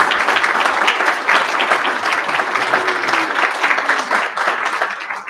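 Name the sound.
meeting audience applauding long-serving employees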